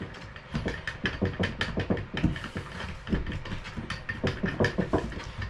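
A back nut is tightened underneath a bath tap, producing rapid, close ratcheting clicks and scraping metal sounds in an uneven rhythm with no talk.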